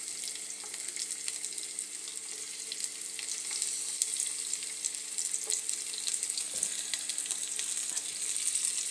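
Onions sizzling in hot oil in a pan, a steady bright crackle and hiss throughout with occasional faint clinks, no voices.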